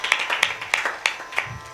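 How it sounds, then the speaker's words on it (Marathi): A few distinct hand claps during a Marathi kirtan gathering at a temple, sharp isolated slaps in an uneven rhythm, close and fairly loud, with no talking over them. "त्यांच्यासाठी एकदा जोरदार टाळ्या वाजवा"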